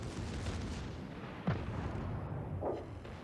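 Naval guns firing from a warship in World of Warships Legends, a sharp booming report and a second muffled blast over a steady rumbling game background, moderately loud and distant-sounding.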